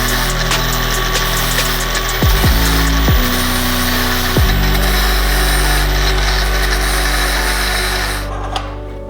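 A power tool grinds and bevels the cut end of a shortened steering shaft for a Nissan 240SX steering system in a drift truck, a loud, steady whine running throughout with a few brief dips in pitch as the tool loads up against the metal.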